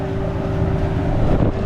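A motorboat engine drones steadily on a sea ride, a loud constant hum with a sustained tone, mixed with rushing wind buffeting the microphone.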